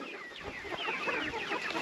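Chickens on a farm clucking and calling in a busy, overlapping chorus, several birds close by with a few brief higher cries, steady and continuous throughout.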